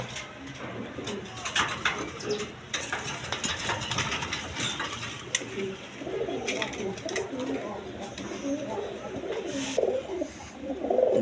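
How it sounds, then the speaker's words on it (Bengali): A pair of Bombay pigeons coos in a run of low, rolling calls close by, partly under a voice, with scattered clicks and knocks around them. "দর্শকরা এখানে এক পেয়ার বোম্বাই কবুতর সে দেখেন"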